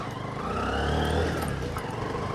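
A Bajaj Discover 125 motorcycle engine runs steadily up close, its low rumble swelling slightly mid-way before easing, loud and continuous throughout.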